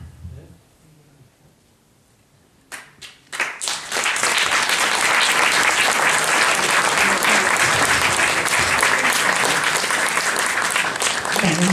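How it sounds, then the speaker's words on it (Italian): An audience at the end of a talk about a film breaks into applause after a quiet murmur, growing quickly into loud, sustained clapping that continues to the end. "Mi sembra che l'applauso sia conclusivo, credo."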